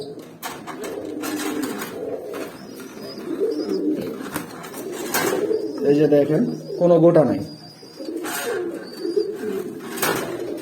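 Pigeons coo inside an indoor pigeon room, soft repeated coos and rustling close by, heard beneath someone talking for most of the stretch.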